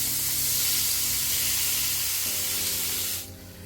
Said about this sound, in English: we're gonna add our shrimp into this cast iron